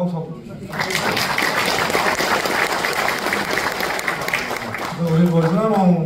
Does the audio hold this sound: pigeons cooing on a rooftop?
no